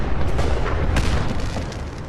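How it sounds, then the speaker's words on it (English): Fireworks exploding in Fallout 4, a modded video game settlement: a dense, continuous rumble of booms and crackling bursts with sharper pops near the middle, loud and layered, with no talking. "It's blowing up fireworks."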